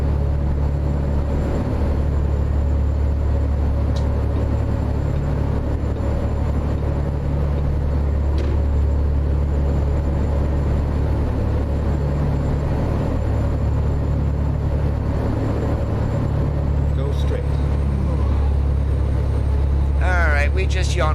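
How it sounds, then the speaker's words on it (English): Modded truck engine in American Truck Simulator droning continuously with a deep steady rumble under the cab, a few faint higher tones near the end. "so I can use the engine sounds in the truck"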